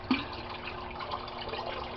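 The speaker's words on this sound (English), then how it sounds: "And there's the gurgle, and one more, and that stops the siphon" Steady low gurgling and trickling water from an aquaponics siphon as it stops draining, soft and continuous with one slightly louder gulp near the start.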